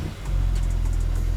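BMW G80 M3 twin-turbo engine idling up close after a start, with a loud, steady low rumble and a faint rhythmic whine and flutter above it.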